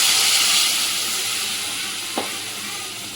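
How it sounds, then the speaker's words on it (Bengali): Crab curry with cauliflower and potato sizzling and frying steadily in a pan, a soft broad hiss with one brief stir or scrape near the end, no talk. "এবার এটা ভালো করে কষাবো"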